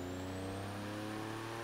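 Porsche boxer engine in Forza Horizon 3, a steady droning hum with strong low harmonics holding a near-constant pitch, fairly quiet and smooth with a faint rising whine above it.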